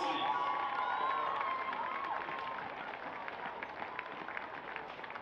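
Crowd cheering and applause at the Hart Sports Rogers Cup grand final between Swan Districts and East Fremantle, loud at first and easing off over several seconds, with shouts and whistles mixed into the steady clapping.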